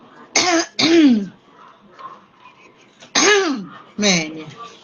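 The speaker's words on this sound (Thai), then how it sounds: "กระแอมกระไอกระอ้ำกระแอม" Four loud, close throat-clearing coughs arrive in two pairs, with quiet gaps between them.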